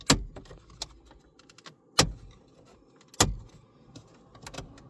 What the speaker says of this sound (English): let's start removing the trim around the stereo